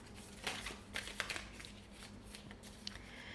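Tarot affirmation cards shuffled and drawn from a deck by hand, a close, quiet run of soft riffling swishes and flicks with brief crisp snaps, steady papery texture throughout with no talking.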